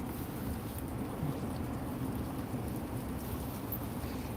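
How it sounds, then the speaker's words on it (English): Strong, steady wind roars during a snow squall, a dense continuous rush with low rumbling gusts buffeting a shaking car beneath big swaying trees. "It's windy."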